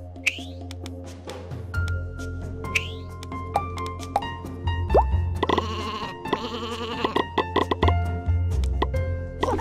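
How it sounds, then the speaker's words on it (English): Sheep bleating in the Boom Blox video game: several wavering bleats overlap over about ten seconds, close and fairly loud, with game music and scattered plinking effects underneath. "So just a ton of sheep."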